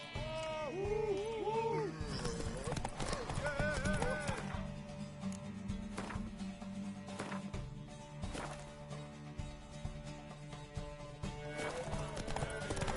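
Horse hooves clip-clop amid busy game music and effects in The Witcher 3: Wild Hunt, with a horse whinnying briefly near the start.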